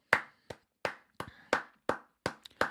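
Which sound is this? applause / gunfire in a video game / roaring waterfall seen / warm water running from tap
applause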